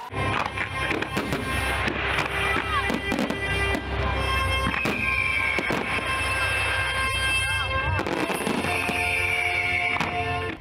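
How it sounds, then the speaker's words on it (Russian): Fireworks at a pyrotechnic festival crackle and burst continuously, dense sharp bangs layered over a rumbling low roar, with occasional whistling rockets rising through the barrage. "Фейерверки запускают в тишине и всего двух цветов."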